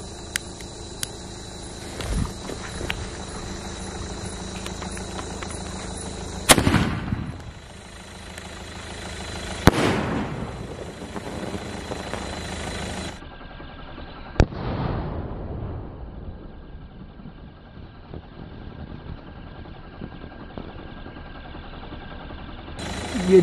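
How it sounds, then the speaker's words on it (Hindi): Supreme Fireworks sky shots launching and bursting outdoors during Diwali cracker testing: a steady hissing fuse-like fizz with several sharp bangs spaced a few seconds apart, each trailing off, fairly distant and moderate in level with no talk. "ये जबरदस्त था सुप्रीम फायरवर्क्स का स्काई शॉट"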